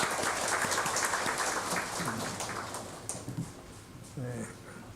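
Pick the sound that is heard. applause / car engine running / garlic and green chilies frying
applause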